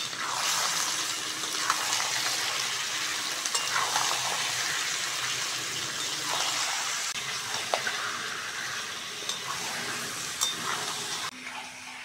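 Chicken fries with onions in a pan, giving a continuous close, loud sizzle with occasional stirring scrapes and small pops, steady for the whole stretch without speech.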